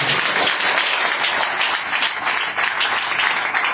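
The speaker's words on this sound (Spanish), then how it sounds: "denle un aplauso al Señor" A church congregation claps loudly and steadily in praise during a worship service, a dense continuous wash of applause with some voices mixed in.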